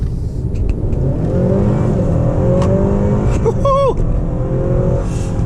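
Honda Accord Touring midsize sedan accelerating hard, a loud sustained engine roar that climbs steadily in pitch from inside the cabin, with a brief squeak near the end and no talking.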